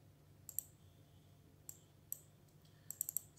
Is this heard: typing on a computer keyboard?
yes